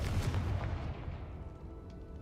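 A Confringo fire spell blasts in the video game Hogwarts Legacy, a short, faint booming burst that quickly fades.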